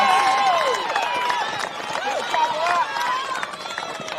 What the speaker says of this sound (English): Listen to this crowd more behind us.